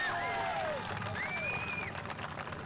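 A crowd at a live drone-racing event cheers for the third-place finisher, faint applause and whoops in the background with distant voices calling out.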